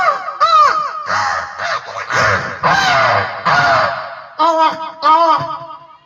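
A human voice imitating several crows cawing, a rapid sequence of loud, close, raspy caws in uneven bursts with short pauses between them.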